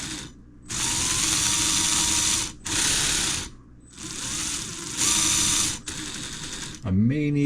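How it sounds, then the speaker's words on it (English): Small geared drivetrain of an RC Cherokee XJ scale truck whirring in several bursts of steady mechanical ratcheting, stopping and starting between runs, with a short rising servo-like whine at the end. "The gears turn."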